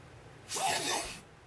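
A single quick sneeze, a short sharp burst of breathy noise, close by against a quiet room.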